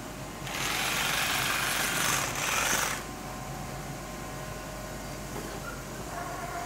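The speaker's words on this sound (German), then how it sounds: "Da ist unsere Nähmaschine." At a flour mill, a sack sewing machine stitches a bag shut in a loud, rapid mechanical whirring burst of about two and a half seconds, briefly dipping midway, then stopping against a quieter background hum of mill machinery.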